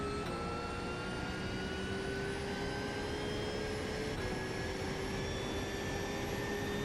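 Helicopter engine and rotor drone heard from a racing sim video game, a steady, continuous whine with smooth rising tonal harmonics, no voices over it.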